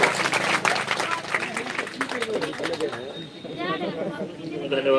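A crowd at a teachers' eligibility candidates' protest pandal claps in welcome, a dense patter of hands mixed with chatter and voices, the clapping thinning out as talk takes over.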